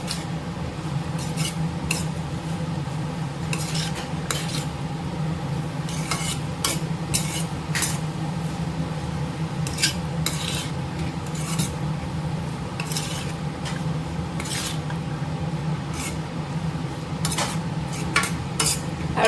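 Beetroot and green peas stirred in a pan for a poriyal, with a repeated spoon-on-metal scraping over a low steady sizzle, close up and without talk.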